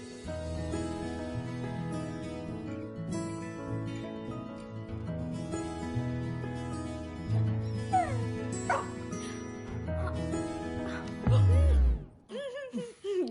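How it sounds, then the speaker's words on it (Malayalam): A dog whimpers and yips in a Malayalam film scene over background music, with short high cries scattered through and a louder burst near the end. "ജിമ്മി, പോടാ പട്ടി."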